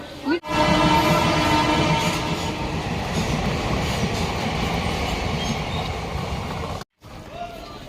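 Train at Balichak station, heard close and loud: a continuous rumbling roar of rolling cars with faint clacking and a brief squeal at the start, ending in a short cut near the end.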